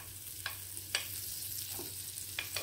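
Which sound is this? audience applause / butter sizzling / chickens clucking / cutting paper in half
butter sizzling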